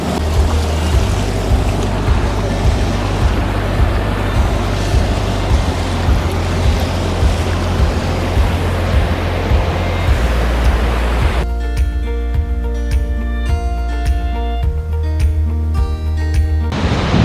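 Rushing water of the Alaknanda river at Vishnuprayag, a loud, steady roar of fast-flowing water close by. Midway a burst of music cuts in over it.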